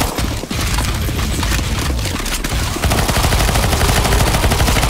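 Dense, continuous automatic gunfire fills a CS:GO Zombies round, loud and close, with overlapping weapons firing in rapid streams that intensify near the end.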